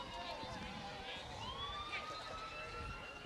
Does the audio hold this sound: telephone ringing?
no